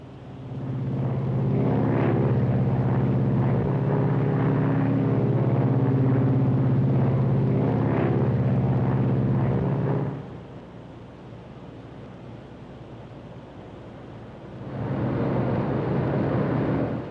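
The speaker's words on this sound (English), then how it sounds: "Gear down. Gears coming down." Interior of a 1953 propeller airliner during approach, a loud steady engine drone with tonal hum that drops sharply partway through and then rises again, with no voices.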